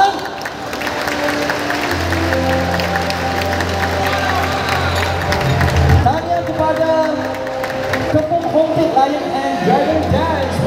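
A crowd at an acrobatic lion dance competition prize presentation claps and cheers steadily, with a voice talking over the applause and music-like tones in the background.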